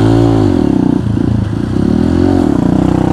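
A trail motorcycle engine runs close and loud while riding, a steady low throbbing drone with rapid pulsing, dipping briefly in pitch then rising again as the throttle changes.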